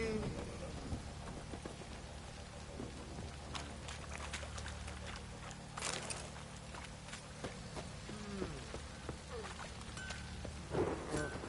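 Steady rain in The Witcher 3 patters softly in the background, with scattered clicks and faint voice-like sounds drifting over the wash of falling water.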